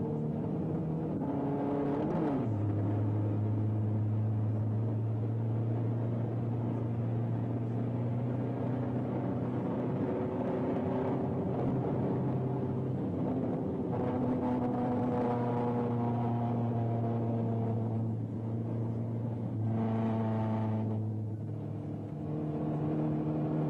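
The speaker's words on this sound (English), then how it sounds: "As a sports car, the Mustang demonstrated excellent roadability on the closed-circuit road course at Daytona Beach." A Ford Mustang I sports car lapping the closed road course at Daytona Beach, its engine droning steadily with rising and falling tones as it accelerates and shifts through gears, continuous and fairly close, with no talking.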